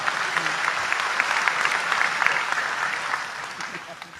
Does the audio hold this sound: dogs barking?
no